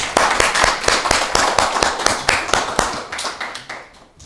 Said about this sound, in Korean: 감사의 박수 드리겠습니다